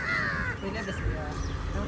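Crows caw near a hillside temple at Arunachala, harsh calls over a constant background of voices and chatter.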